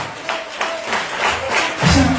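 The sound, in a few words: church congregation applauding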